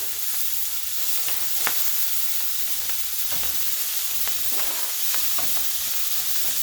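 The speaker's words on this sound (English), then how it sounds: "We're going to roast them all up now. So we're going to scoop all of our ingredients in the pan." Cherry tomatoes, jalapeños, chickpeas and raisins sizzle in hot olive oil in a pan, a soft continuous frying hiss with a few faint scrapes and clicks, close by, and no voices.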